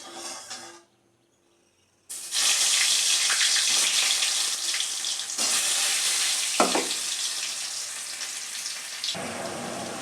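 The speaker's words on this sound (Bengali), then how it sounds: "তো এবার আমি আলুগুলো ভেজে দেবো" Loud, steady sizzling of potatoes frying in hot oil, broken by a brief quiet gap near the start and a few clinks midway.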